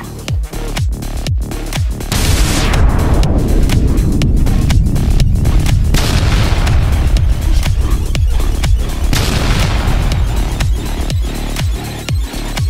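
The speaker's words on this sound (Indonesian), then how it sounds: "dan kembang api ini sangat berisik" Loud, dense crackling bursts and booming pops of New Year's Eve fireworks in the video game Sakura School Simulator go off repeatedly, a continuous barrage with sharp bangs throughout.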